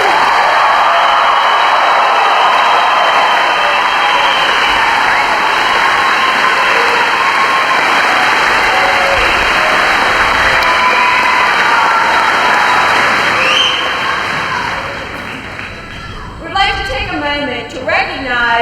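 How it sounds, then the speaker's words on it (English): Sustained applause from a large crowd of families honoring new Marines at a Marine Corps graduation, loud and dense for most of the stretch, then thinning out as a voice begins speaking near the end. "How about a round of applause for your new Marines?"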